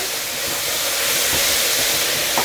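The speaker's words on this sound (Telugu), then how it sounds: "చికెన్ని కొద్దిసేపు అట్లా ఫ్రై మాదిరి చేసుకున్నామంటే" Chicken pieces fry on a high flame with salt, chili powder and turmeric, making a loud, steady, dense sizzle and hiss up close, with a few faint stirring knocks.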